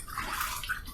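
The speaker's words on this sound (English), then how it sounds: "Let's rinse." Water splashes and runs briefly as a razor is rinsed during a wet shave, a soft, close, continuous trickling lasting about a second.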